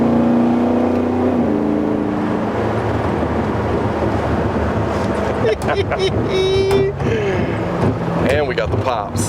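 A car engine revs and falls off, with sharp crackling pops from the exhaust and a whining pitch sweep, under brief bits of talk.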